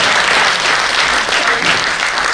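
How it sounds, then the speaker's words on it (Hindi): A loud, steady wave of applause from an audience at a Hindi comic poetry recital, dense clapping filling the room throughout for a female performer, with a faint murmur of voices underneath. "एक बार खुल्लर मैडम की भी तालियां बजाइए।"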